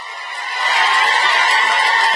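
An audience bursts into applause, a dense wash of clapping that swells within the first half-second and then holds loud and steady.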